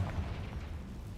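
A Confringo spell explosion in the video game Hogwarts Legacy: one short, deep, muffled boom with a rumbling low burst, heard alone.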